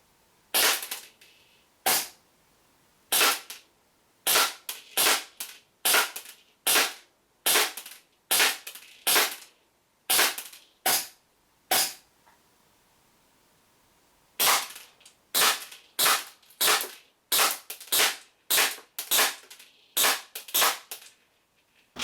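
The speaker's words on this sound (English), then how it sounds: "We'll shoot the compact first, and then we'll shoot the normal model with a longer barrel." WE P38 gas blowback airsoft pistols, a compact and a longer-barrelled model, fire on a range test: a long run of sharp, loud, evenly paced shots, a short pause, then another steady string of shots, no talking.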